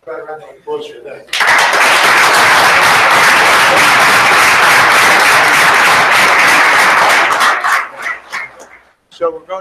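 Applause for teachers and principals at a school board meeting, a brief voice followed by a full, sustained burst of clapping lasting several seconds, then tapering off into scattered claps and talk.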